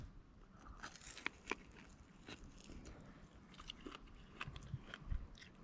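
Someone bites into and chews fried tempura-battered crappie, a freshwater fish, with close, quiet crunches and soft chewing sounds coming in irregular bursts, and no talk.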